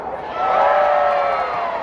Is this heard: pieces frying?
no